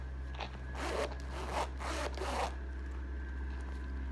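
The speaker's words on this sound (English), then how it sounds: "It's a YKK zipper." A YKK zipper on a full grain leather tote is pulled in several quick rasping strokes, close and clear, then stops, leaving a steady low hum.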